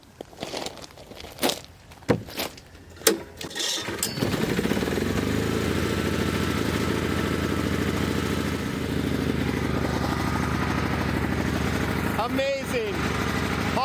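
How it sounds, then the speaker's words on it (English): A Honda small engine is pull-started after a few sharp tugs, then catches and settles into a steady, loud running drone that continues to the end. "Honda engines, you gotta love them"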